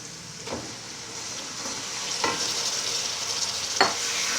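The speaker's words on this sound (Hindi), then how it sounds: "कीमे को हल्का सा भून लेंगे।" Minced meat browns in a pan with a continuous close sizzle, broken by three or four scraping strokes of a spoon turning it over.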